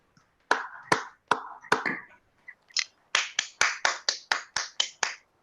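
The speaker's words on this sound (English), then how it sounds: "A round of applause for all the role players and the speakers." A small audience at a Toastmasters meeting claps, a few separate sharp claps at first, then a quicker run of close, crisp claps.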